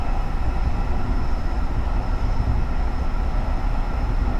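A Metro-North Comet V commuter train rolls along in Train Simulator 2019, with a steady, loud, low rumble of wheels and carriage that holds evenly throughout, with no voices.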